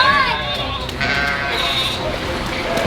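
A sheep stuck in a creek bleats loudly and close, its wavering cries rising over running water and outdoor noise, with people talking nearby.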